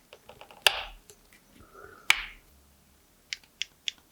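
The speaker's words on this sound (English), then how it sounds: "a gentle push to insert the DNA module in the mod, with the printed features clicking in their cuts" 3D printed mod parts click into their cuts as a DNA module is gently pushed into place: two sharp, close clicks a second and a half apart, followed by a quick run of four lighter ticks, with no talk.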